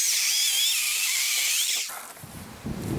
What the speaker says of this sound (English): We are really pushing the limits of this poor Ryobi saw